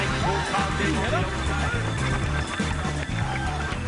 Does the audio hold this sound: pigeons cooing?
no